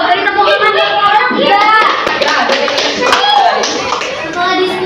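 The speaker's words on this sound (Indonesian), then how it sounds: "Beri tepuk tangan." Students clap together in an Indonesian school classroom during a classical counseling session, steady dense clapping throughout, with children's voices chattering and calling out over it.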